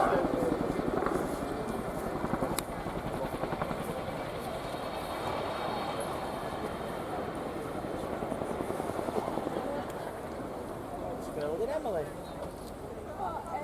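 An RAF Boeing Chinook HC.6 helicopter flies a tactical display at an airshow, its heavy rotor thump pulsing steadily throughout while an announcer talks over it.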